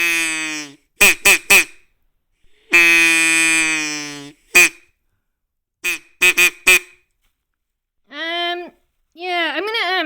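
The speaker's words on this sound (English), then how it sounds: "And then we got the duck quacker." Several short, bright quacks from a Mr. Hand duck caller, sounding in quick clusters of two to four with a couple of longer drawn-out quacks between them, close and loud, ending in a few lower, more wavering honk-like calls.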